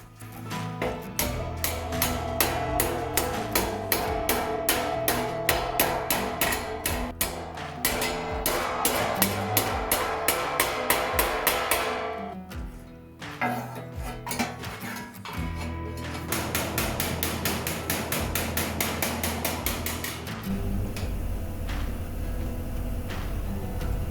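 Car body metal on a 1956 oval-window cabriolet is shrunk by hand with rapid, loud, regular hammer blows on sheet steel, continuing in long runs with a brief pause midway.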